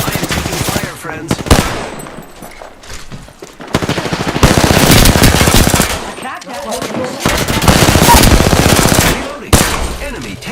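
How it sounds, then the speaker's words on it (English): Loud, sustained automatic gunfire from a shooter video game, coming in long bursts separated by short pauses, with some game voice lines mixed in. "I am taking fire, friends."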